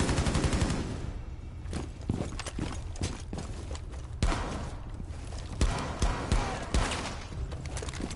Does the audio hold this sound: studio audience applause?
no